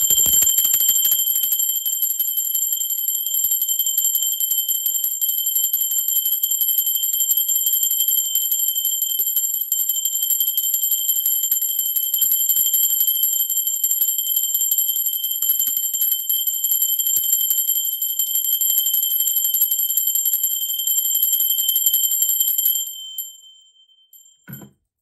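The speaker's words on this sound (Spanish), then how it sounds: "Ahora sí, va campana" A bell rung once with a long, steady, bright ringing tone that sustains evenly for over twenty seconds before cutting off, close and clear with no talking.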